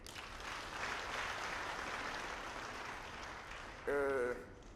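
Audience applause at the opening speech of SARA 2017, a steady, dense clapping from a large crowd filling the whole stretch, with a brief louder tonal burst near the end.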